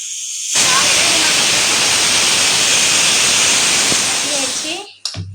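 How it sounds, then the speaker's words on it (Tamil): A loud, steady steam hiss like a pressure cooker whistle blowing for several seconds while cooking veg biryani, then cutting off abruptly with a brief clatter. "குக்கர் விசில் வருது, இன்னும் 2 விசில் வரணும்."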